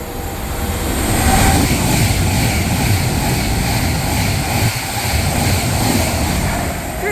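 An Avanti West Coast Class 390 electric train runs from Manchester Piccadilly to London Euston through Nuneaton station on the West Coast Main Line, a loud, steady rumble and rush of wheels and carriages sweeping close past without pause.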